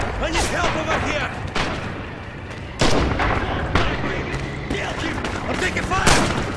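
Gunfire and booming artillery in a Red Orchestra 2 multiplayer battle on Bridges of Druzhina, with rifle shots and heavy blasts cracking out repeatedly over constant battlefield noise while soldiers shout.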